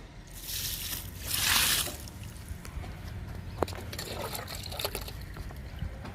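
Liquid fertilizer pours from a can onto a sapota fruit plant in a garden, a soft splashing trickle that swells briefly and then settles into a faint dribble, close by with no talk.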